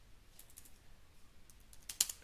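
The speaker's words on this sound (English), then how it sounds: "you come into the search box here, and we're just going to type in YouTube" Fingers type quickly on a computer keyboard into a Canva search box, a brief, faint run of light key clicks ending in a slightly sharper tap.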